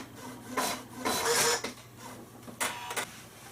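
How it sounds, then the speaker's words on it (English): CMC 6 printer running a test page, with repeated whirring, rasping passes of the print mechanism, each a second or so long, separated by brief pauses, close and fairly loud. "it will print out a modified test print"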